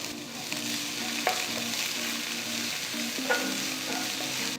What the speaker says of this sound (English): to a pan add about 3 teaspoons of oil, half teaspoon cumin seeds, add 1 small onion finely chopped